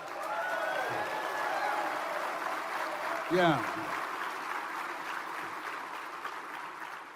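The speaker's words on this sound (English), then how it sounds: "Give her a round of applause." An audience claps in a sustained wash of applause, with a voice briefly calling out partway through.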